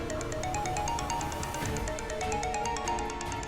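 A mobile phone ringtone plays steadily in a tense drama scene, a repeating melodic electronic tune with a regular pulsing rhythm, moderately loud and alone without voices.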